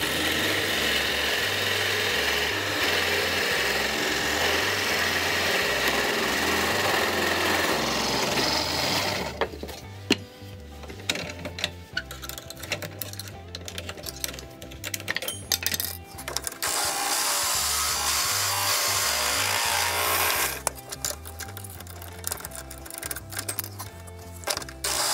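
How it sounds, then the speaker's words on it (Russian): Drill press boring holes into a workpiece clamped on a rotary table, a steady loud motor whine broken by intermittent gritty cutting and clattering bursts, with no talking. "Выставляем поворотный стол, ставлю упор сюда, вот, и начинаем процесс сверления."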